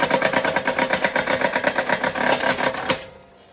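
A small wire stripping machine works through aluminum wire with a steady, rapid mechanical chatter, loud and close, stopping abruptly near the end.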